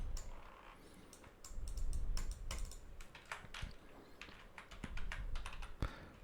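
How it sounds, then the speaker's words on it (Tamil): Fingers tap quickly on a computer keyboard in a quiet room, the key clicks coming in uneven bursts and short runs with brief pauses between them. "வணக்கம் நண்பான்னு டைப் பண்ணிக்கிறேன்"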